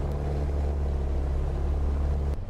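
Cessna engine running at high RPM in a flight simulator game, a steady, droning hum with an even low throb, continuous and unbroken until a brief click near the end.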